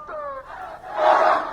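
A large crowd at a Bangladesh protest shouts slogans in a loud, rising, blended roar of voices, with one voice briefly leading at the start before the mass of shouting swells.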